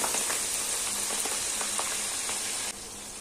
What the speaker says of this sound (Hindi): अब इसमें लहसुन अदरक का पेस्ट डालेंगे 2 टेबलस्पून और इसको भी फ्राई कर लेंगे 1 मिनट के लिए